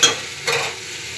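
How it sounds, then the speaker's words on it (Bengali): Cubed potato and pointed gourd fry in hot oil with cumin seeds, bay leaf, salt and turmeric, giving two brief scraping stirs over a soft sizzle. "এখন নুন হলুদ দিয়ে ভাজা ভাজা করছি"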